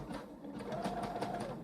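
A sewing machine stitches a T-shirt back and forth, a steady close mechanical whir with quick rhythmic needle clatter running without pause for under two seconds.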